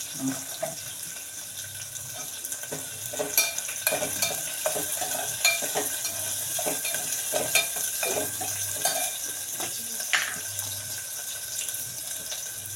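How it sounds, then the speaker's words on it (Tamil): Dough balls fry in hot oil with a steady, close sizzle, broken by frequent clicks and scrapes of stirring throughout. "இதை எண்ணெயில் போட்டுக்கணும்."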